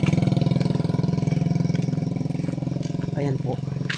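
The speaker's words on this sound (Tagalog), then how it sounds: "Ay, may motor." A motorcycle moves along a countryside road, its engine giving a steady, close, pulsing putter throughout while people talk over it.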